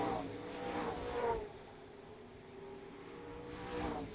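Several NASCAR Late Model race cars running bumper to bumper at Mesa Marin Raceway, a steady moderately distant engine roar swelling and fading as the pack passes, with a second rise near the end.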